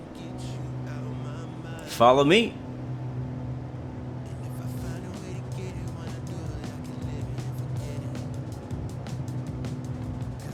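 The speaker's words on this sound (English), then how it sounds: "Engines are spooling up. You hear it." Airliner engines spooling up in Microsoft Flight Simulator on the ground at Houston, a steady droning hum throughout with a brief rising whine, while someone speaks briefly.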